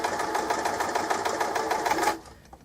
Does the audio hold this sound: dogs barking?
no